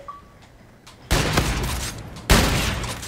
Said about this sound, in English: This gun I'm using right now is called the TF.